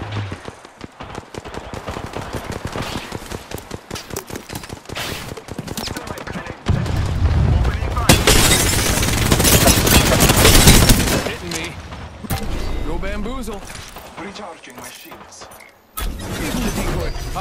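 Heavy gunfire in an Apex Legends match, loud bursts of rapid automatic shots and impacts in dense volleys, with in-game voice callouts and speech mixed in.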